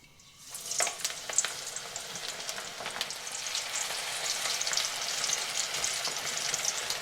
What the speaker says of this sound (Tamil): பக்கோடாவை கொஞ்சம் கொஞ்சமாக போட்டு பொரிச்சு எடுப்போம்